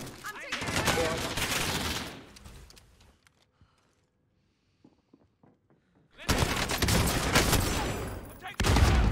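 Heavy gunfire bursts in the Call of Duty: Modern Warfare Warzone battle royale, loud dense volleys for about two seconds, then a near-silent gap with faint scattered clicks, before intense firing resumes and runs to the end.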